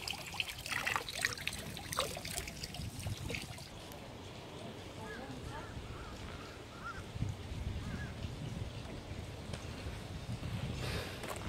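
Mineral water trickles steadily in a temple courtyard, a soft continuous dribble heard close, with voices talking over it through the first few seconds.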